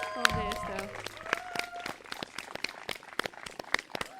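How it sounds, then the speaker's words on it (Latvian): A small audience applauds. The clapping is close and uneven, and a voice calls out briefly at the start. "Jā, sākam aplaudēt."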